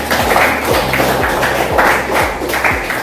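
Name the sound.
students clapping hands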